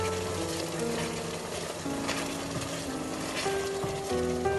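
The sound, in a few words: Christmas cake fruit mixture cooking and reducing in pan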